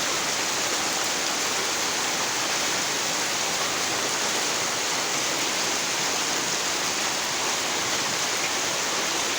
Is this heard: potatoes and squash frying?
no